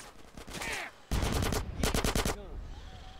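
Video game gunfire in GTA San Andreas, two dense bursts of rapid automatic shots up close, with a voice talking between and over them.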